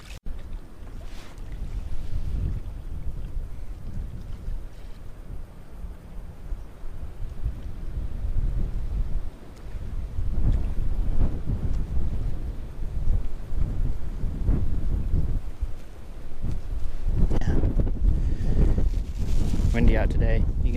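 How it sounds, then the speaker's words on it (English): Gusty wind buffets the microphone in low rumbling bursts at a lake while crappie fishing, strengthening toward the end, with occasional speech mixed in. "Windy out today."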